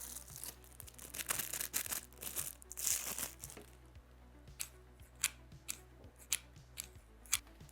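Medical trauma scissors from a first aid kit snip close up in a series of crisp, quiet cuts, mixed with light crinkling and rustling and no speech.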